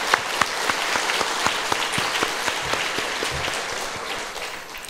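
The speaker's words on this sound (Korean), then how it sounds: "다시 한번 박수로 축복해" A church congregation claps for a choir during a Sunday service, dense steady applause filling the room with a few sharper claps standing out, loud and continuous.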